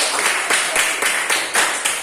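Rhythmic group clapping from a school class in an English lesson, steady broadband bursts roughly every quarter second, fairly loud and close, with no talking over it.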